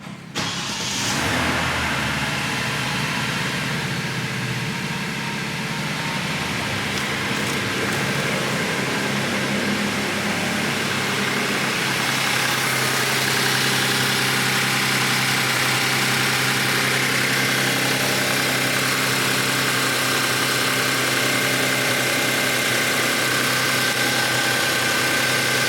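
A 2016 Genesis DH car engine starting and then idling, a steady even hum close by for over twenty seconds with no irregular knocks and no voices.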